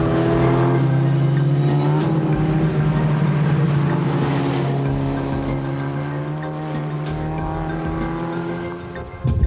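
Formula Ford Zetec race car engines drone and shift pitch steadily as cars pass during qualifying on a wet track, with a loud, sustained roar and a brief sharp noise at the end.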